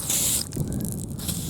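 Air escaping from a punctured tyre on a motorcycle in the Australian outback, heard as a brief bright hiss at the start that fades into quieter, muffled rustling.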